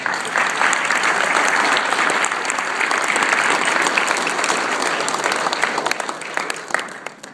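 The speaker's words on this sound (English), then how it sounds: "So let's give a round of applause." Audience applause at a Pueblo announcement of a new company, a full steady round of many hands clapping that thins out toward the end into a few scattered claps.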